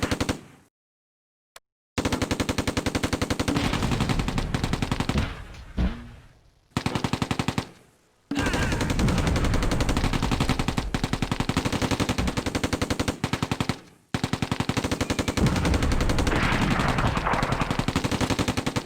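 Gunfire in the World War II video game Close Combat: A Bridge Too Far, long rapid machine-gun bursts broken by brief silences, loud and close throughout.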